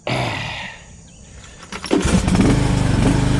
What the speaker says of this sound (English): if I can get the tractor started, we're gonna use the tractor